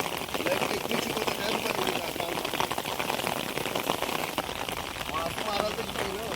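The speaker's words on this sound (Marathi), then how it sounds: "पाऊस पडायची जोर आलाय पावसाचा" Steady, dense rain pours down without pause, a broad hiss of drops hitting surfaces with voices faintly mixed into the wash of sound.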